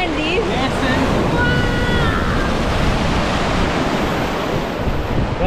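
Ocean surf rolling onto a warm sandy beach in Goa, a loud continuous wash of breaking waves with wind buffeting the microphone and faint voices in the background.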